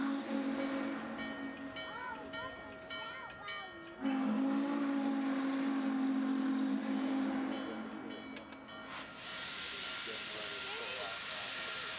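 N&W 611 steam locomotive backing its train into the old N&W depot site in Roanoke, with hissing steam, tonal whistle-like squeals and a steady mechanical drone, heard at a moderate distance.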